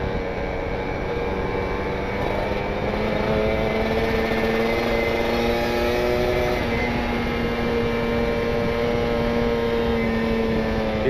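Kawasaki Ninja RR two-stroke motorcycle with an R9 Neo Muggelo carbon exhaust coasting down a steep hill, a continuous close, loud engine drone with slowly gliding pitch and a buzzy layered tone throughout.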